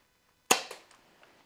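Airsoft gun lets off a single sharp, close crack that decays quickly with a faint echo, with a few small ticks afterward in an otherwise quiet space.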